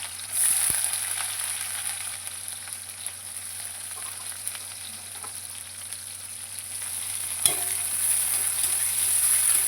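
Onion sizzles as it goes into caramelizing sugar and oil, a steady hiss of frying with a few sharp clinks of a utensil against the pan.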